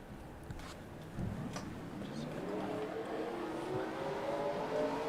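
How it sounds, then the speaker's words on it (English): Race car engines start up for a Michigan race in a racing video game and settle into a rising, steady drone. People talk over the engine noise. "I'm starting the engines."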